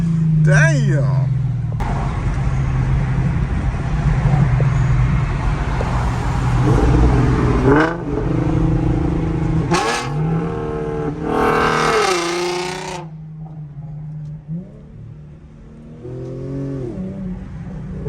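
Loud, raspy idle of an Infiniti G37 running a muffler delete, broken by sharp throttle blips and one long climbing rev near the middle, recorded close with possible faint voices around it.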